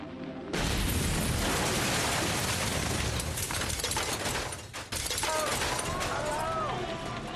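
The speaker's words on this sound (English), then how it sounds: "The explosion causes panic in the compound." A massive blast erupts in a compound during a wartime assassination plot, a sudden loud boom followed by a sustained roaring rumble and crackling debris.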